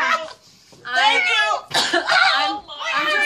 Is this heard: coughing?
yes